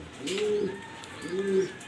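German Beauty Homer pigeons coo nearby, two distinct drawn-out coo phrases separated by a short pause, clear and fairly loud with no speech.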